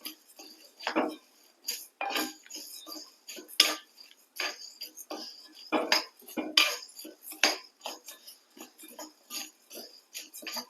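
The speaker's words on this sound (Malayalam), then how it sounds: "അപ്പൊ അതിന്റെ കൂടെ നിന്നിട്ട് തന്നെ നമുക്ക് ഇങ്ങനെ ഇളക്കി കൊടുക്കാം" A spoon scrapes and stirs spices dry-roasting in a pan, giving close, irregular clinks and rasps throughout with no voices.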